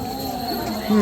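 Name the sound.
crickets chirping at night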